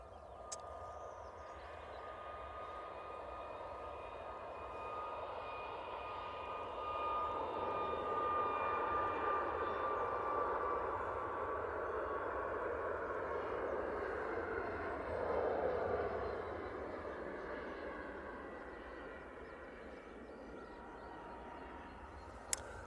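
Passenger airplane departing Manchester Airport for Faro, a distant broad jet roar that swells gently midway and stays steady throughout, with no voices.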